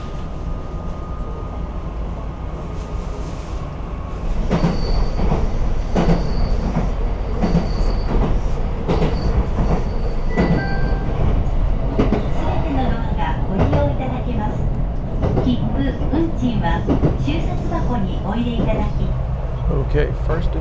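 A two-car Man-yō Mahoroba train in Nara rumbles along with steady wheel and track noise and occasional squeals, clicking rail joints and clatter throughout a ride, with some voices faintly mixed in.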